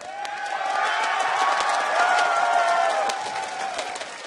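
Arena crowd at a League of Legends World Championship quarterfinal between TSM and Azubu Frost cheers and applauds in a loud, sustained roar of clapping and shouting that swells and holds throughout.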